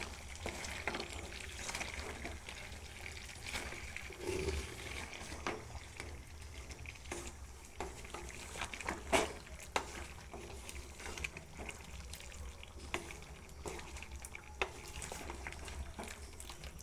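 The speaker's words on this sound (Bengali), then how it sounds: "সুন্দর করে কষাইতে হবে, জাল কমায় দিতে হবে যাতে আলুটা সিদ্ধ হয় এই তেলের ভিতরেই" Layer chicken curry with potatoes frying in oil on low heat while being stirred, a steady soft sizzle throughout with occasional scraping clicks from the stirring, no voices.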